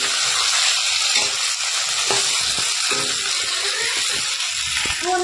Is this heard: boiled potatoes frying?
yes